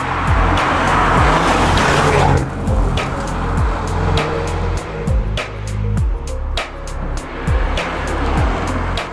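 A 2024 Audi S3 drives along the road, its engine loud and close with a steady low drone, repeated revving gear changes and sharp rising bursts of acceleration.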